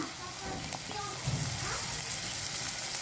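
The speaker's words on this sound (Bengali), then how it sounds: "এখন আমরা একটু সরিষার তেল দিয়ে দিচ্ছি" Hilsa fish roe frying in mustard oil in a pan, with a steady broadband sizzle running the whole time and a brief louder burst near the middle.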